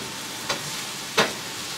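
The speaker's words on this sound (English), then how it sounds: "sauteed zucchini and yellow squash with the onions and the garlic" Zucchini and yellow squash sautéing with onions and garlic in a pan, a steady close sizzle broken by two short scraping bursts of stirring, with no talking.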